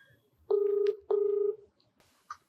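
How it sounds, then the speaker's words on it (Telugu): An outgoing telephone call rings through on a TV talk-show set: two steady, even ring tones, each about half a second long, then a short pause. A faint click follows. No one speaks. "మీరు ఓకే అంటే ఒకసారి కాల్ చేయండి."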